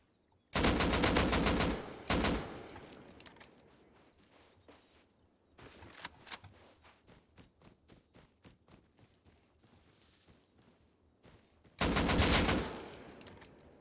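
Gunfire in the video game Rust, with loud bursts of rapid automatic shots at the start, middle and end, separated by a steady patter of footsteps and scattered single shots.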